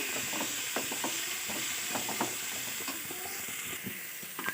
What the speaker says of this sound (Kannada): ಇದನ್ನು ಸ್ವಲ್ಪ ಫ್ರೈ ಮಾಡ್ಕೊಳ್ತೀನಿ ಅಷ್ಟೇ, ಜಾಸ್ತಿ ಏನು ಫ್ರೈ ಮಾಡ್ಕೊಳಲ್ಲ.